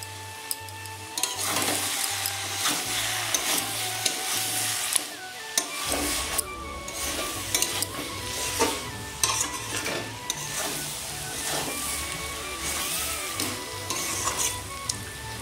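Cabbage with catla fish heads and ground garam masala is stirred in a pan, a steady close sizzle under repeated scraping strokes, with a low rhythmic hum running underneath.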